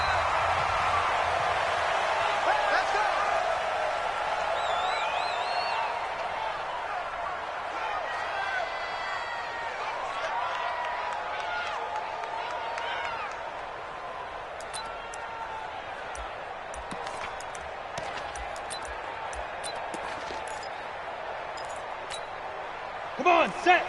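Stadium crowd roaring and cheering in a PS4 NFL football video game, Arizona Cardinals against Minnesota Vikings, a steady dense wash of noise filling the whole stretch, with brief sharp thumps near the end.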